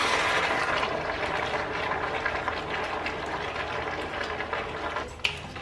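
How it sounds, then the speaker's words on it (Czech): Two to three litres of water poured into a cooking pot for a vegetable soup, a steady broad rushing splash that runs continuously and close for several seconds, with a brief clunk near the end. "Tak tam nalijeme vodu, takový 2 až 3 litry"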